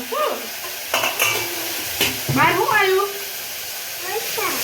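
A spice tempering (vaghar) crackles and sizzles in hot oil, a continuous frying hiss with a few sharp utensil clinks while voices talk over it.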